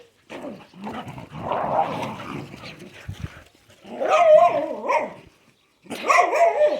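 Several dogs bark and yip close by in bursts of sharp, excited calls separated by brief gaps, rising to louder clusters toward the end.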